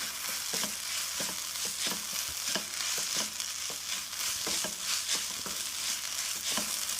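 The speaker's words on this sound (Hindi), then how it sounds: "और इसको अच्छे से मिक्स कर लेंगे।" Snack mixture tossed and stirred with chaat masala and chopped green coriander, giving a steady run of soft scraping, rustling stirs with regular spoon clinks, close and alone with no talk.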